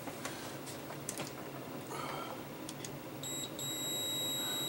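A multimeter set to continuity gives a steady electronic beep while probing a fuse on an LED TV power supply board, the tone starting near the end after faint clicks of the probes.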